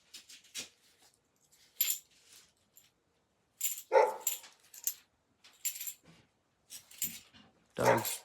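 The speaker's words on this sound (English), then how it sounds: "Dog's barking at something out there." A dog barks outside in several short bursts, some single and some doubled, spread irregularly over the stretch with quiet gaps between, alongside occasional clinking like coins being handled nearby.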